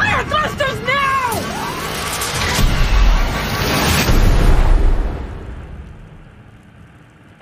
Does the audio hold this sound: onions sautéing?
no